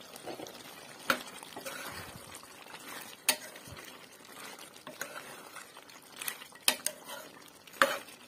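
Broiler chicken cooks in a pan with garlic, ginger and onion paste as a spoon stirs it, giving scattered scrapes and knocks against the pan over a faint sizzle. It is fairly quiet and close, with no talking.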